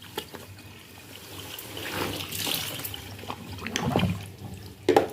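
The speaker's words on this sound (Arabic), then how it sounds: "وفتحت صفيت الميه خلاص اهي" Soaking water drains from a washed fiber quilt in a tub as a steady, close gurgling trickle that gradually swells, with a few splashy sloshes near the end.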